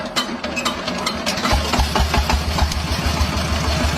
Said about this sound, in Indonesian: Mesin pun diputar-putar.